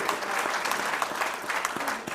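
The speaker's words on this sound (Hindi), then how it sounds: "अपने बच्चे की राह से कांटे निकाल तालियों से इस्तकबाल करें दोस्तों" Audience applause at a mushaira poetry gathering in a medical college hall, a dense steady clatter of many hands clapping at once, loud and continuous from start to finish with no talk over it.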